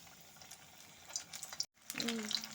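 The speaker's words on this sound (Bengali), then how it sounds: "তেল গরম হয়ে গেছে এখন আমি তেলের মধ্যে তিলের মাখাটা দিয়ে দিচ্ছি" Sesame pakora batter drops into hot oil. After a brief cut, a soft crackling sizzle with scattered bright pops rises and continues steadily.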